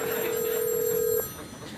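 A telephone bell rings through a wall from next door. One steady, slightly muffled ring sounds for about a second and then cuts off.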